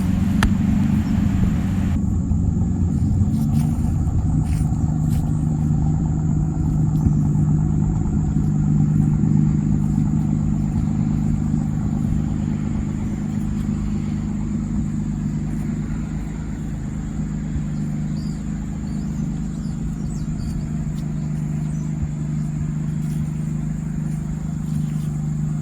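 A 1946 Hudson Super Six pickup truck idles steadily with a deep, even engine rumble, close and continuous for the whole stretch, with no talking over it.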